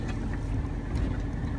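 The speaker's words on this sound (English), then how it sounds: "That noise you're hearing is mud getting kicked off." Steady low rumble of a vehicle on the highway, with a continuous gritty rushing and spattering of mud kicked off inside the wheels after rain, loud and close throughout.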